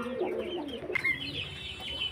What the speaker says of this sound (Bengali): দেখুন পায়রার কোয়ালিটি দেখুন, যদি এইসব পায়রাগুলো পছন্দ হয় অবশ্যই নিতে পারেন।